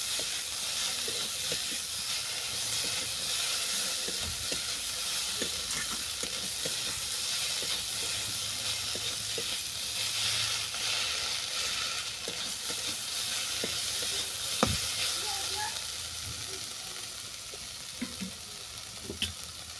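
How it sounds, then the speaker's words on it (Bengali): Eggplant and moringa flowers frying in a pan make a steady, close sizzle with a constant hiss, broken by occasional clinks and scrapes from stirring. No one speaks. "বেগুন আর সজনা ফুল ভালো করে ভাজা হয়ে গেছে"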